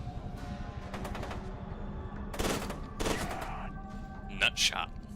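Burst-fire gunshots ring out in the video game Fear 2: Project Origin, several sharp clustered volleys at varying intervals over a continuous game soundscape, with a louder burst near the end.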